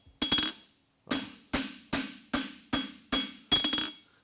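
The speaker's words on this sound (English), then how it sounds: "overlapping my hammer blows, getting heavier and heavier and heavier to that outside corner" Hammer blows ring out on a horseshoe being forged at the anvil: one quick double strike, then six evenly spaced, clanging metallic hits, close and loud with short ringing decays and no talk.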